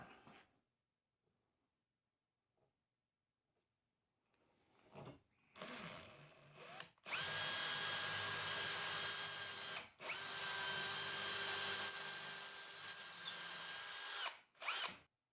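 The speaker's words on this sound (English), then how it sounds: "So just obviously holding this, the drill as square and straight as possible." Power drill boring through a wooden dresser drawer to fit hardware, starting after a few quiet seconds with short bursts then two long steady whirring runs with brief pauses, close and loud, no talking.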